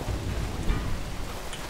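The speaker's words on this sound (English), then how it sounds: "it's raining just like here" Rain in the video game Dead Island Riptide falls as a dense, steady patter and hiss with a low rumbling undertone, continuous and fairly loud, with no voices.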